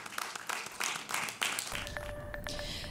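Applause and scattered clapping at a county board of commissioners meeting, a dense patter of many hands at moderate distance that thins out toward the end, with some crowd murmur underneath.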